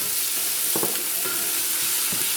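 Chicken drops into a soup pot over browned ginger and garlic and fries with a loud, steady sizzle, broken by a few stirring scrapes and clatters.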